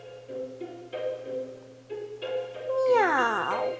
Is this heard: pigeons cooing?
no